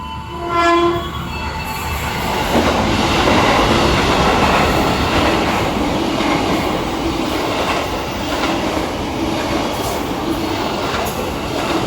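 The Taksaka executive-class passenger train rolls steadily along the rails in Indonesia, with a loud, continuous rumble and rail noise close by. A short horn-like tone sounds near the start, and no one speaks.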